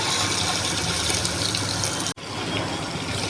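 Water poured into a native country chicken curry simmering in oil, a steady rushing gush that cuts off abruptly near the end, then resumes softer.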